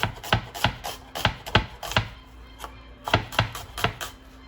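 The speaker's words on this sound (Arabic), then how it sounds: "نجيبوا حبه البصل واش نديروا، نجموا تقطعوها اون لاميل" A knife chops an onion on a board in quick, crisp, evenly spaced strikes, pausing briefly before another run of close, sharp chops.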